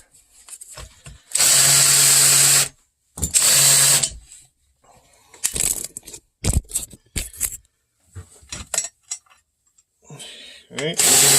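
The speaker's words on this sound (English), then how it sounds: "The drill on fast mode." A power drill runs on its fast setting in two loud sustained whirring bursts, followed by scattered clunks, rattles and brief handling noises, while building an ATV winch lifting device from scrap parts.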